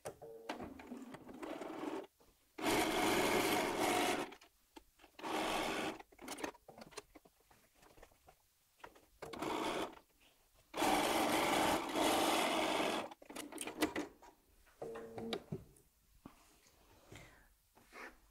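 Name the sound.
sewing machine sewing jelly roll quilt fabric strips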